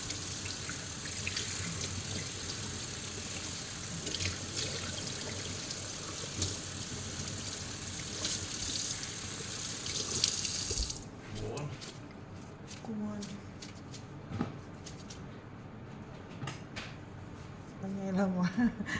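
A large fish being rinsed under a running kitchen tap, with water gushing steadily into the sink for about ten seconds before it stops. Lighter splashes and handling noises follow, and someone talks over all of it.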